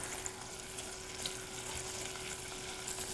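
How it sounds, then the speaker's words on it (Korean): Squid legs stir-frying in a pot, a steady soft sizzle that holds faintly and evenly throughout with no voices. "이제 오징어 다리가 익을 때까지 볶아주시면 됩니다"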